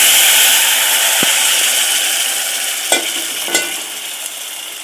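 Ground masala paste frying in a pan for a Raichur-style brinjal sambar, a loud, dense hiss that eases gradually, with a few sharp spatula knocks near the end.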